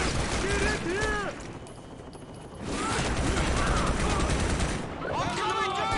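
Sustained machine gun bursts roar in the Shadow Ops: Red Mercury shooter, dense overlapping gunfire filling the scene with a brief lull in the middle, while voices shout over it.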